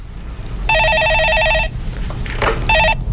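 A telephone rings for a connecting call on a Korean stock-market phone-in broadcast: two electronic ring bursts, a long trilling one and a shorter one after a pause, loud and close over faint background.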